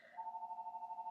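A telephone rings indoors with a steady, pulsing electronic tone, about a dozen rapid beats in a second, close and fairly loud with no talk over it.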